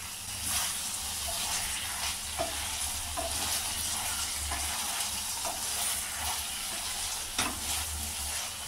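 Bitter gourd curry with ginger-garlic paste stirred in a pan while it simmers, a continuous sizzling hiss broken by a few scraping spoon strokes, close and fairly loud with no talk.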